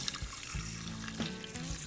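Tap water running into a small container to rehydrate McDonald's dehydrated onions, a steady close trickling and splashing with faint bubbly pulses, quiet and without voices.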